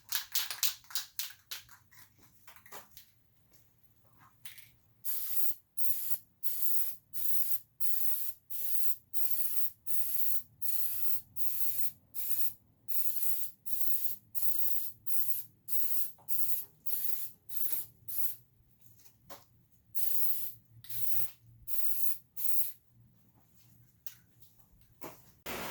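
A Rust-Oleum spray can puts a second coat of Kubota orange paint on a grille guard bumper for a Kubota LX2610 tractor, with many loud, regular hissing bursts, each about half a second long, separated by short pauses.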